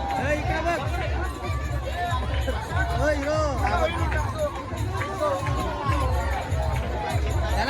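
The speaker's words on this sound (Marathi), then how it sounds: "विसर्जन घाटावर भरपूर अशी गर्दी आहे" Dense crowd noise at a Ganpati immersion ghat, constant overlapping voices and shouting with a busy rumble underneath, loud and surrounding, with people talking close by throughout.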